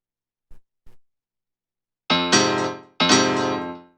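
Piano plays a house music rhythm: two faint taps, then two loud sustained chord stabs ringing out, with no talking.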